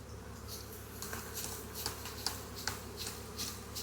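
A steady, dense buzz of many honey bees droning together, close by in a bee yard during cell builder setup, with soft rustling and light tapping noises over it.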